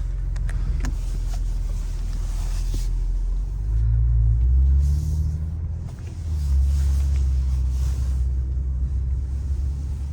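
A car moving slowly out of a dealership lot at the Autobarn: a steady low engine rumble close by, rising a little around the middle as it pulls forward, with faint interior clicks early on and no talk.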